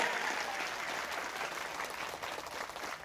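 A crowd at a religious lecture applauds in a steady, continuous patter of many hands, moderately loud and even from start to finish with no speech over it.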